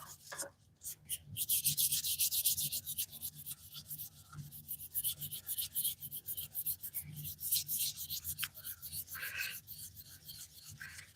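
A wooden workpiece is burnished by hand with steady, repeated rubbing strokes, a soft, close, rhythmic scratchy friction sound with short pauses between passes.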